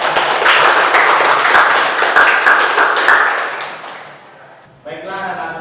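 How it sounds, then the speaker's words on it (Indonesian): Applause from participants in an online accounting and finance class, a dense, steady patter of clapping that holds for about four seconds and then tapers off, followed by a brief murmur of voices. "Saya kira kita sama-sama beri aplaus dulu,"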